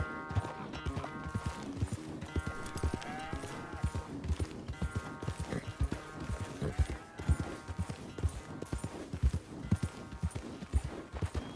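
Horse hooves clip-clop at a slow, steady walking rhythm in the Red Dead Redemption video game, close and continuous for the whole stretch, with faint tonal background music underneath.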